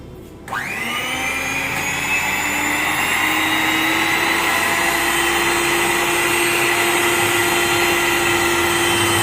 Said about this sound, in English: we'll whisk this at high speed